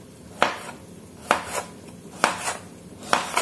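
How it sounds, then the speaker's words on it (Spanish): A knife slices thin, even rounds of zucchini on a cutting board, with four sharp, evenly spaced chops each followed by a softer tap, close and clear, with no talk. "vamos a ir cortando de esta manera, con un corte ligeramente delgado"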